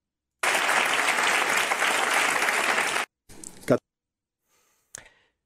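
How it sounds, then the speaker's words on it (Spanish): Members of parliament applaud during a session, a burst of dense clapping lasting a few seconds that stops abruptly, followed by a couple of short scattered noises and a brief click. "No contentos con aplaudir, hasta se levantan"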